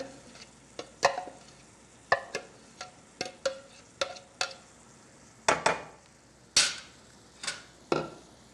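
Corn being stirred in a pot, a series of about a dozen irregular scraping and knocking strokes against the pot with soft sizzling between them, close and fairly quiet.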